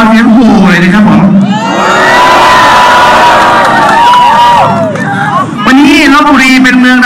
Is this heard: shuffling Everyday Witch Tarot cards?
no